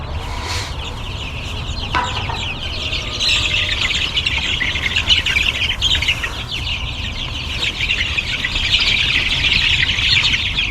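Young brown meat chickens, about three weeks old, chirp nonstop as a close, busy flock, with high peeps overlapping into a steady chorus.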